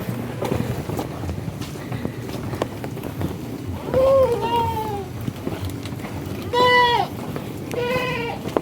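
A goat and her newborn kid, the mother's first, bleat in several wavering calls, each lasting about half a second to a second. They sound close and moderately loud over a steady outdoor rumble, with some faint low noise between calls.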